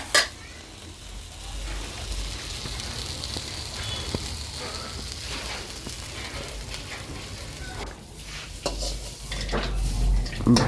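Boiled potatoes fry in a pan for a village-style taki fish potato mash, giving a steady sizzle broken by stirring clinks and scrapes of utensil against metal, louder near the end.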